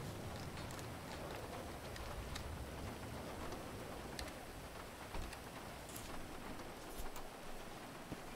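Steady rain in a GTA roleplay game world, a constant soft hiss of drops falling on surfaces with faint scattered ticks, heard alone and fairly quiet throughout.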